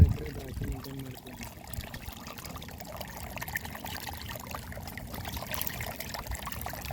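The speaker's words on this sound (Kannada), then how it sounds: "ನೀರು ಹೆಂಗೆ ಕುಟ್ಟಿತದ ನೋಡ ಮ್ಯಾಗಿಂದು" Water pours steadily from a bore pipe on a grape farm, a continuous close rush and trickle with no break.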